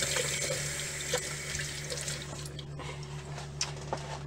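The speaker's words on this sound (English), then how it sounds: "Let me rinse my arms off real quick." A tap runs steadily into a sink as arms are rinsed under it, an even close hiss of flowing water with small splashes and no talking.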